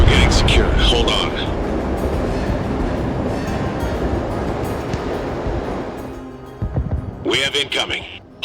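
A train in the game Crossfire: Legion rumbles steadily under a constant roar, fading toward the end as sharper clanks and hisses rise; voices are heard over it.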